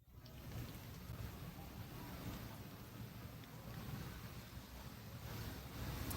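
Steady, faint wind rushing outdoors beside the water at a fishing spot near sunset, a continuous low roar with light microphone buffeting and no voices.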